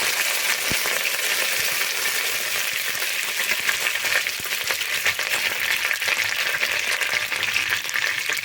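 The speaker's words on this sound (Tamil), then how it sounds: "இப்போ வந்து 2 துண்டு பட்டை போட்டுக்கிறேன், 2 லவங்கம், 2 ஏலக்காய், கொஞ்சமாக கருவேப்பிலை போட்டுக்கிறேன்." Whole cinnamon pieces, cloves, cardamom pods and curry leaves crackle in hot oil in a pan, giving a steady dense sizzle with a few sharper pops at the start, close and continuous with no talking.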